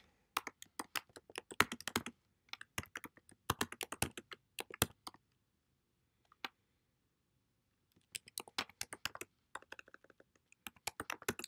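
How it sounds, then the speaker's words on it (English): Bursts of quick clicking keystrokes on a computer keyboard, irregular runs of typing separated by pauses, close and fairly quiet with no talking. "I'm having problems typing today"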